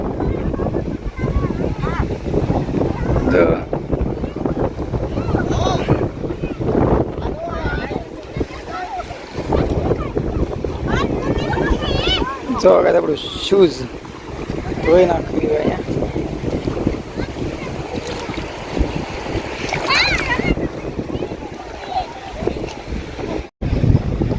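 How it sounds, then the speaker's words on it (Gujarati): Wind and surf at a sea shore roar steadily and close, with heavy gusty wind buffeting the microphone over continuous wave wash, and voices talking now and then underneath. "આપણે દરિયે પહોંચી ગયા છીએ"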